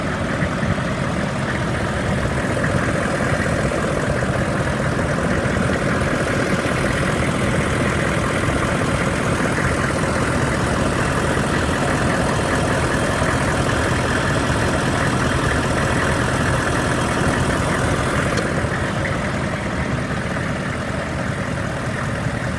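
The 6.5 liter diesel in a 2002 Hummer H1 idles steadily, a continuous low, rough rumble heard up close with no change in pace and no speech.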